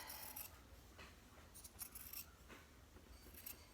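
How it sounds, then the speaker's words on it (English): Scissors snip through a bulk of quilt fabric in short, quiet, irregular cuts with soft rubbing between them, close by and with no voices. "I got my scissors right here"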